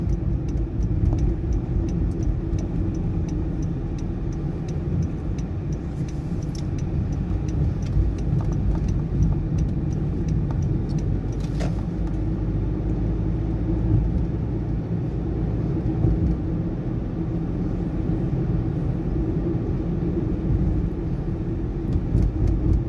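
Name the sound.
2019 Honda Jazz car driving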